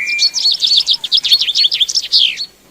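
Songbirds in the Amazon rainforest sing a rapid, continuous run of bright chirps and whistled trills for about two and a half seconds, close and clear with no voices.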